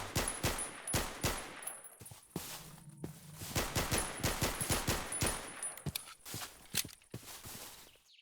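A Glock handgun fired in the Minecraft Superb Warfare mod, a run of sharp, fast gunshot cracks, some in quick bursts, loud and close with short gaps and no voices.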